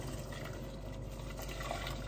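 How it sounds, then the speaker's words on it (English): Water pours steadily into a pan of pasta on a home kitchen stove, a continuous soft splashing and filling sound, fairly quiet and with no voices. "Let's add some water."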